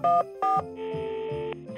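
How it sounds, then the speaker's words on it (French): A telephone keypad gives a quick series of distinct dual-tone beeps as a number is dialed, several short tones of different pitch in sequence with brief gaps, clear and close. "Maurice saisit le téléphone et composa le premier numéro."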